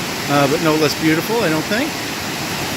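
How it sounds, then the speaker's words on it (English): Waterfall at Waddell Falls in Victoria Park, the smaller of two sets of falls, giving a steady broadband rush of falling water throughout while a person talks over it nearby. "This is the smaller of two sets of waterfalls,"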